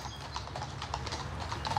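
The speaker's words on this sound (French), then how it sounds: "Sur leurs chevaux, Jean-Philippe et sa brigade sont sur le pie" Horses of a mounted Republican Guard patrol clip-clop steadily along a path in the Bois de Boulogne, the moderate hoofbeats continuing evenly over a low rumbling background with no voices.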